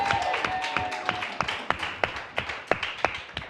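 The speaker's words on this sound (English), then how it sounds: "Start clapping right now for the one and only Jonica Booth, everybody." An audience claps for a comedian at a comedy panel event, with a burst of applause that thins into scattered, distinct handclaps coming at a fairly regular pace.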